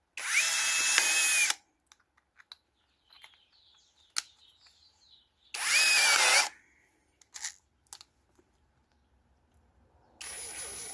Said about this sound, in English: Now I'm going to take a 10 millimeter drill.